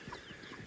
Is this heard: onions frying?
no